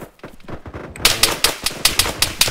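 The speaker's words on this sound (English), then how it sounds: "MG is firing at us." A video game machine gun fires at the players in a rapid rhythmic burst of sharp cracks, loud and close, after a softer stretch of scattered rattling noise.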